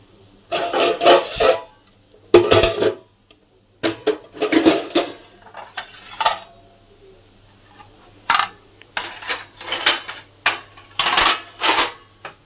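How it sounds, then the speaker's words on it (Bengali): Washed metal dishes and pots being stacked and put away in a home kitchen, bursts of clinking and clattering in irregular clusters separated by short quiet gaps, close and fairly loud with no talking. "এখন বাসন জায়গায় রাখি"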